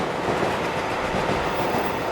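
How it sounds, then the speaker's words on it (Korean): A commuter train rides along its rails on the evening trip home, a steady loud rumble and roar of wheels and carriage filling the whole stretch without pause or speech. "그날 저녁 집으로 가는 전철 안."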